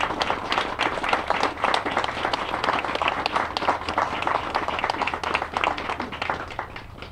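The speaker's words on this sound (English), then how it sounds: "Please stand for a great round of applause from all of us to you." Graduation crowd applauding college faculty and staff, a steady dense wash of many hands clapping throughout, loud and unbroken from start to finish.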